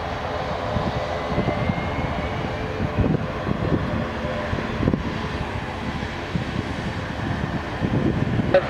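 An airliner at Lisbon airport around takeoff clearance, with a steady, fairly loud engine roar and broadband whoosh filling the whole stretch, plus faint wind noise and occasional muffled radio-style voice underneath.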